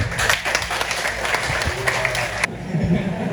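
Students in a phone-repair lecture class give a short round of applause. The clapping is close and busy and mixes with voices before it cuts off abruptly, leaving quieter room sound.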